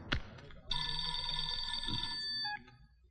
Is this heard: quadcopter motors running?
no